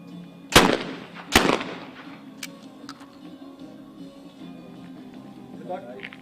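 Two loud shotgun blasts ring out a second apart during skeet test fire at an ISSF World Cup mixed team final in Cyprus, each echoing sharply, followed by faint clicks and distant ambience.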